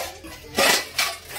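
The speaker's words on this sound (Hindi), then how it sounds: "बर्तन धो रहे हैं।" Household pots, dishes and cutlery being washed clatter and clink in two short bursts, close by and moderately loud with no voices.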